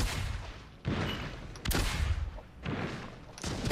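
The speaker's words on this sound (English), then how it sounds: "I'm gonna try and use my range with the pistol" Pistol fire in the battle royale video game Naraka Bladepoint, a few sharp shots and bursts spaced irregularly over dense game noise, moderately quiet in the mix.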